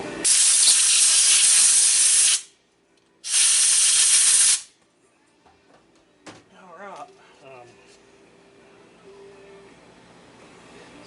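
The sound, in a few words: compressed air hose blowing on a McCulloch Super Pro 80 chainsaw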